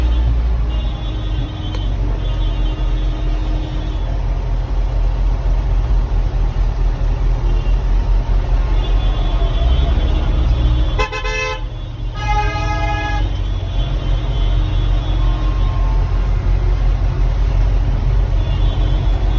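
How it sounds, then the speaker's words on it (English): Irish farmers' protest with cars and tractors caught among the tractors, a heavy low engine rumble continuing throughout while horns toot repeatedly, including a louder cluster of honks midway, close and loud. "These cars now in the middle of tractors"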